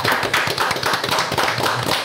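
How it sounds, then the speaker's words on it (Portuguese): Studio audience applause welcoming a guest couple on a podcast show, dense steady clapping from a small crowd, loud and close, lasting throughout. "Uma salva de palmas para eles, senhoras e senhores"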